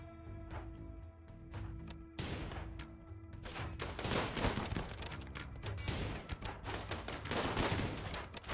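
Automated turret gunfire in a colony-building game, rapid bursts of shots growing denser and louder midway through and continuing as sustained fire, with sharp cracks over a rumbling battle background.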